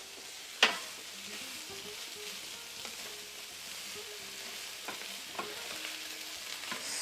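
Food frying in a thin coat of oil in a pan while being stirred, a quiet steady sizzle with an occasional light scrape and one sharp knock early on.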